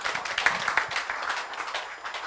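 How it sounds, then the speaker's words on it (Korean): A small audience at a history lecture claps for a couple of seconds, with scattered, moderately faint applause that holds steady and then thins out. "박수로 맞이해 주십시오."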